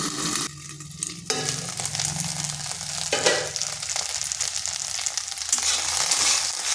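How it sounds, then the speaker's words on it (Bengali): Okra frying on high heat in a covered wok, a continuous loud sizzle and crackle of oil, steady and close, with a short clatter of the lid or utensil early on. "আর হাই আঁচে ঢেঁড়সগুলো একটু হালকা ভেজে নেব"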